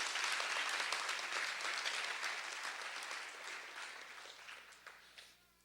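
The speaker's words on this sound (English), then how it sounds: "Nonetheless, a little round of applause and appreciation for Mr. Tomchuk." Applause from an audience at a sports team's awards ceremony, a broad steady patter of many hands that fades gradually toward the end.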